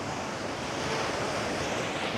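Ocean surf washing up on a beach lined with beach clubs and bars, a steady broadband rush of water and wind noise, constant and fairly soft with no voices.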